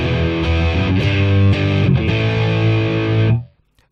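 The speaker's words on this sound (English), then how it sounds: "this is the sound of a distortion pedal running through the front of an amp" Heavily distorted electric guitar chords through a distortion pedal into a Boss Katana amp ring out loud and sustained, with a few rhythmic accents, then cut off abruptly near the end.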